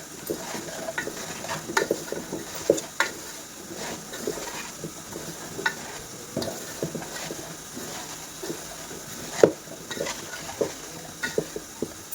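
Mustard seeds and cumin powder crackle in a hot pan as a spoon stirs and scrapes in irregular strokes, close and fairly quiet, while making amla pickle.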